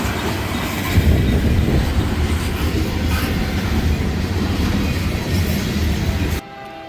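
A CSX freight train rolls past trackside in Terre Haute, Indiana, a loud, dense, continuous rumble with rhythmic wheel clatter and rail noise that cuts off abruptly near the end.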